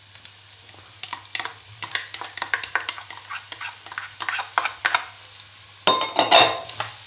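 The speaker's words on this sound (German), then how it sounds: "Das werde ich jetzt so 1-2 Minütchen anbraten, so bis das die Zwiebel etwas gleisig sind und die Möhre auch so ein bisschen weicher wird." Two onions and a carrot stirred and frying in oil in a pan, with repeated scraping stir strokes and a soft sizzle, rising to louder clattering near the end, with no talking.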